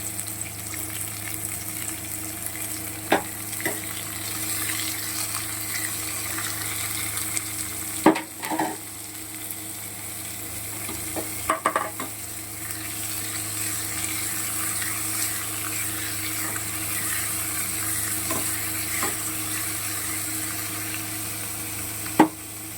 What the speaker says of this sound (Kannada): ಜೊತೆಗೆ ಈರುಳ್ಳಿನೂ ಕೂಡ ಇದಕ್ಕೆ ಆ್ಯಡ್ ಮಾಡ್ಕೋತಾ ಇದ್ದೀನಿ